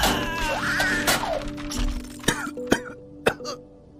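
A person coughs up blood in a horror audio drama, giving several sharp, harsh coughs spaced apart after a strained, throaty start. The coughs are close and fairly loud, with a quiet backdrop.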